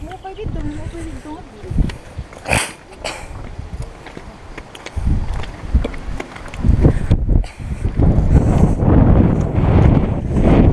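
Strong, cold mountaintop wind buffets the microphone in heavy, roaring gusts that build and swell, growing louder and more constant toward the end.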